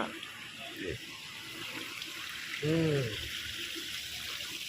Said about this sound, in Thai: แนวมุมน้ำตก มีน้ำตกด้วย นะธรรมชาติ